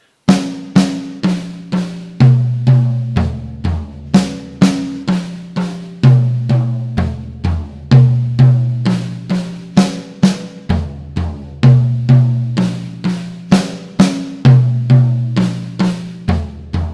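A drum kit plays a steady, continuous stream of strokes in traditional grip, moving around different drums in a flowing pattern of connected motion exercises, loud and close with no talking.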